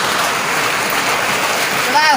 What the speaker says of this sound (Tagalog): Ayan, sobrang ulan.